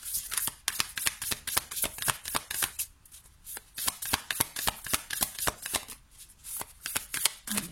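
Tarot cards being shuffled and drawn from a deck, a steady run of crisp riffling flicks and slaps close up, with brief pauses between bursts and no talking.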